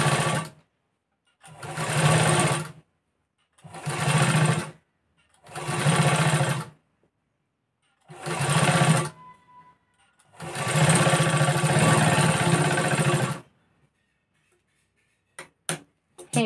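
A sewing machine stitching a blouse cup seam, running in five short bursts and then one longer run, each a close, steady mechanical whir separated by silent pauses.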